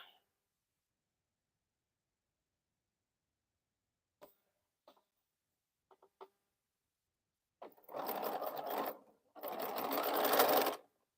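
A sewing machine back stitching a T-shirt quilt runs in two sustained bursts near the end, preceded by a few faint clicks and taps in an otherwise quiet room.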